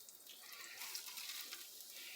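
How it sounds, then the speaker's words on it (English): Butter bubbling in a pan gives a faint, steady crackling sizzle, soft and close with small popping flecks throughout and no voices. "we're just going to wait until that butter bubbles"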